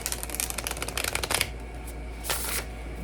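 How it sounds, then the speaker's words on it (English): A tarot card deck being shuffled close up, with a run of quick riffling card flicks for about a second and a half, a pause, then a second brief burst of shuffling. "I want to shuffle it."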